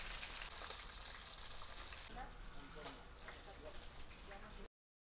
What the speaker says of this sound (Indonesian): Jadi guys, ini kita gorengnya cuma sebentar doang.